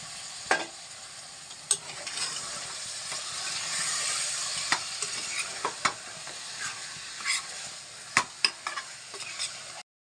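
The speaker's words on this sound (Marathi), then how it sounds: "आता त्यात मी अर्धा किलो मटण टाकत आहे" Half a kilo of mutton fries in hot oil with onions and coriander in a pan. A steady loud sizzle runs under repeated scraping and clinking stirs from a utensil, close up with no talking.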